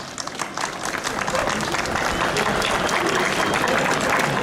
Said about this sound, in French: je vous demande de les applaudir